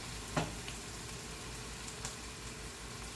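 Greens and cabbage sizzle and fry steadily in a hot pan, a constant close crackling hiss with a couple of faint clinks of a utensil.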